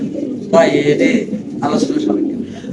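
Lahori pigeons at a large fancy-pigeon farm coo in a few warbling bursts close by, with a murmur of background noise between calls.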